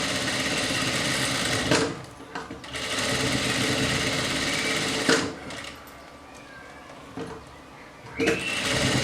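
A sewing machine stitches fabric bias tape in close, fast bursts of mechanical chatter, stopping and starting a few times, with someone speaking softly between runs.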